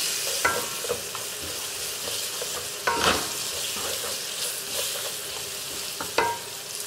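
Browned meat and its oil hitting cooked pilau masala spices in a hot pot, a steady loud sizzle broken by a few clattering stirs and scrapes of a spoon.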